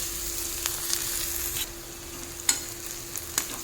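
Onion and crushed garlic fry in a pan with a steady close sizzle, broken by a few light scraping stirs.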